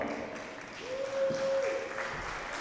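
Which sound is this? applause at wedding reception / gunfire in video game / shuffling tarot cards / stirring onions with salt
applause at wedding reception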